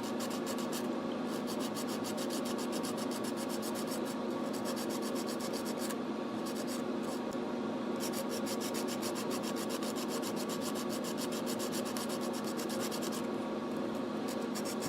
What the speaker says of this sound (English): Just getting this sanded down.